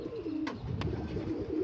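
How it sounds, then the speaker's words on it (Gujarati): Several pigeons coo in a low, throaty chorus close by, the rolling calls overlapping continuously with a couple of brief sharp clicks partway through. "આપણી આગળ હવે બધા બહુ સારા કબૂતર છે મિત્રો"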